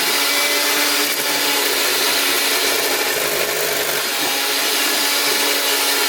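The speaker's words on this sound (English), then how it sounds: "Kind of like the stand mixer your mom used to have." A stand mixer spins its bowl while mixing muffin batter with oil being added, giving a steady, continuous whirring hum that runs unbroken at even loudness throughout.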